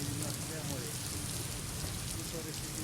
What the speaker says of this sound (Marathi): पुण्यामध्ये मोठ्या प्रमाणात रात्रभरात पाऊस बरसलाय